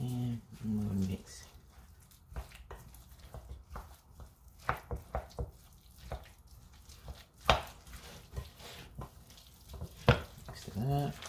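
Homemade potato salad with sweet relish being stirred in a bowl, giving a series of close, irregular wet clicks and squishy scrapes with brief louder knocks, with a short voice at the very start.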